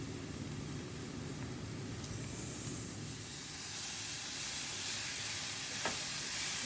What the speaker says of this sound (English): you want to fry the spices and cook them